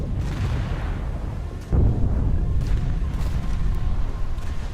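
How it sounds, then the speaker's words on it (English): Depth charges and mortars launched from a warship in a naval combat game set in the Battle of the Atlantic, a deep rumbling boom swelling to a sustained roaring blast with continuous low thunder. "Mortars away. Depth charges."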